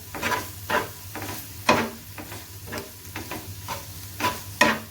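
Spicy tawa keema stirred and fried on a hot iron griddle, with repeated scraping strokes of a spatula over a steady sizzle, close and moderately loud, with no voices.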